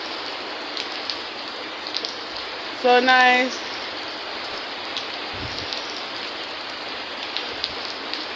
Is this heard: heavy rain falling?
yes